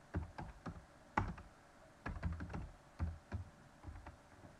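Java code is typed on a computer keyboard, with quiet, close clacking keystrokes that come in short uneven bursts separated by brief pauses.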